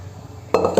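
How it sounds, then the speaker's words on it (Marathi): A spoon scrapes and clinks against a pot while chicken curry masala is stirred, two quick metallic knocks over a low steady background hum. "फक्त याच्यात मसाल्यामध्ये वर खाली परतून घ्यायचं"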